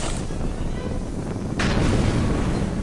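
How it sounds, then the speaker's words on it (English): A blast erupts in the Star Wars Jedi Knight II video game, a broad burst rising out of steady rumbling game noise and holding loud afterward, with a voice talking over it. "Oh boy, it's exploding."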